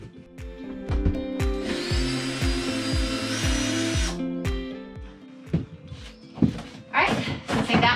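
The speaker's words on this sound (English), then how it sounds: "Really need a longer screw gun." A screw gun works on an RV valance: bursts of high whining drill motor with sharp thunks and clatters of tools against wood, close and loud, with someone talking partway through.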